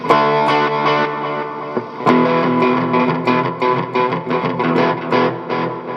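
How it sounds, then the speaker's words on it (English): Electric guitar chords through a Boss RV-6 reverb pedal ring out with echoing delay repeats and a washy reverb tail, notes smearing into one another as new strums cut in. "if all you want is a bit of delay with the reverb already there, just simply go to the delay"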